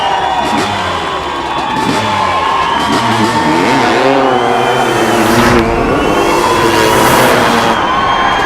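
A loud stunt motorcycle engine roars and revs continuously before a building jump, rising and falling in pitch, with a crowd cheering in the background throughout.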